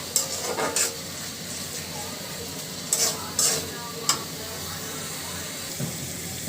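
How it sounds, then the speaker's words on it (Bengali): Spice masala for a chicken curry is stirred and sautéed in hot oil, with several loud, scraping spatula strokes cutting through a steady background sizzle, close by. "এই যে পারফেক্ট মশলা কষানো হয়ে গেছে।"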